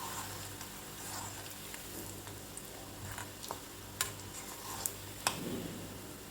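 A raw banana kola urundai mixture fries in oil on a low flame, a faint, steady sizzle with a handful of light utensil clicks and taps as it is turned.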